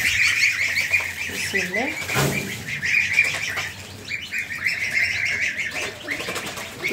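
Baby geese (goslings) peep and chirp continuously in a high, busy chorus while being fed, close by, with a brief spoken phrase and a rustle of feed in the middle.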